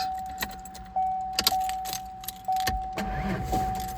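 A $100 Ford Ranger race-truck project gets its first start attempt: keys jangle and a steady warning chime sounds, with a few brief mechanical bursts and clunks, but the engine never catches.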